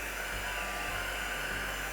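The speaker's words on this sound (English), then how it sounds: "I'm going to get the heat gun and make sure that's nice and dry" A heat gun drying a watercolour painting and softening the masking tape gives a steady, even blowing whir, constant and fairly soft throughout.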